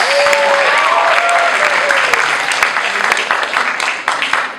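Loud, sustained applause rises from an audience at a campus sophomore festival hypnosis show, clapping for the volunteers on stage; dense steady hand-claps fill the whole stretch with cheering tones near the start and a slight fade at the end.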